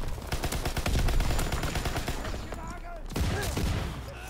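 Rapid bursts of gunfire from the Call of Duty WW2 beta, dense overlapping shots ringing out loud and close, with a short lull near the end before firing resumes amid battle noise.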